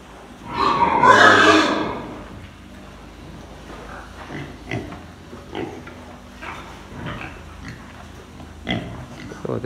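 A pig lets out a loud, close squeal, followed by scattered softer grunts and shuffling noises around a barn holding sows and a young boar.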